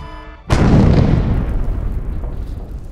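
A grenade goes off in a first-person shooter game: one sudden loud boom that rolls into a long, broad rumbling decay, with no voices over it.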